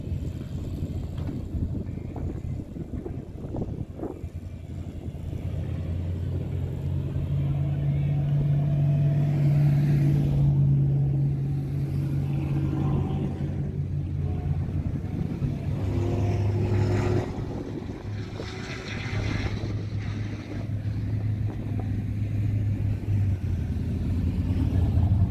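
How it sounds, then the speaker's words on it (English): A car engine revving on a mobile dyno at a Hot Rod Power Tour stop in Bowling Green, Kentucky, heard as a sustained loud drone that climbs and holds in two long pulls over outdoor crowd noise. "Looks like they brought a mobile Dyno."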